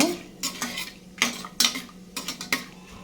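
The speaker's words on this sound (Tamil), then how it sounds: "இது கூடவே வாசனைக்காக ஒரு மூணு ஏலக்காய் சேர்த்துக்கலாம் சேர்த்துட்டு நல்லா கலந்து விட்டுக்கோங்க" A spoon scrapes and clinks in a pan while whole garam masala and cardamom pods are stirred in hot oil, giving a handful of sharp metallic strokes over a faint low sizzle.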